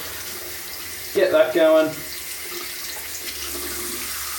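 Cold water running from a bathroom tap before a shave, a brief gush of about a second that starts and stops abruptly, with someone speaking quietly around it.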